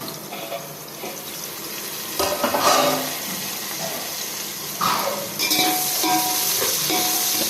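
Chopped onions with a pinch of salt fry in a pan for chicken biryani, a steady broadband sizzle broken by louder bursts of stirring and scraping, close by with no talk.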